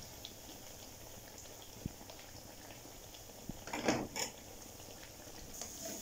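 Potato pakoras fry in hot oil in a pan over a medium flame, making a faint, soft bubbling crackle with a few light clinks of utensils and no talking.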